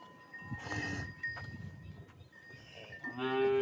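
A Jersey Sahiwal cross cow on a Pakistani farm lets out loud lowing moos, one long call early and another rising call at the end, with farmyard noise and a possible cowbell between them.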